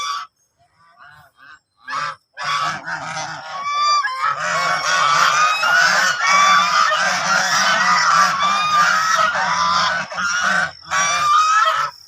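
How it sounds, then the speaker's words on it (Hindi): Loud, repeated honking calls from a group of ducks in a park in Rawalpindi, overlapping and nearly continuous after a few short opening calls. "तो इनको बतख बोलते हैं।"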